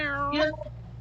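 A pet cat named Coral gives a single drawn-out meow that rises and then falls away, close and clear, lasting about half a second over a low steady hum.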